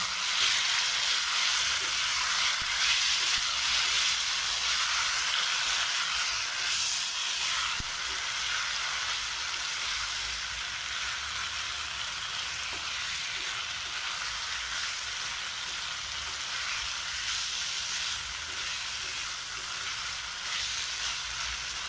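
Potatoes for an egg potato curry fry in a pan with a loud, continuous close sizzle and hiss that barely changes for the whole stretch.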